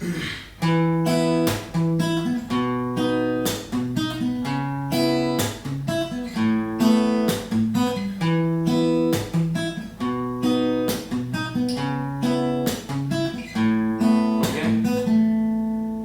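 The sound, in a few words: guitar playing chord progression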